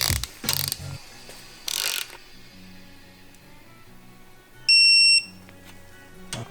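A torque wrench clicks sharply in short bursts while crankshaft main bearing bolts on a Ford Focus ST engine are tightened to 60 foot-pounds, with a brief high electronic beep partway through.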